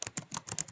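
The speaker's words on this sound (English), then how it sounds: "let me type this" Quick typing on a computer keyboard during a math review lesson, a short close burst of crisp key clicks in an uneven rhythm, alone.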